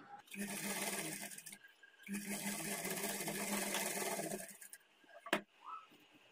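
A sewing machine runs a double-stitched seam attaching sleeves on a plain blouse in two steady bursts of close, even stitching separated by a brief pause, followed by a sharp click.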